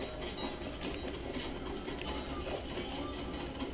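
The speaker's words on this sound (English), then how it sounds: "Immediately gets hit by train." A train in the Sly 2 video game rumbles past with dense, steady rolling clatter and broadband noise, loud and continuous from start to finish, striking the player character.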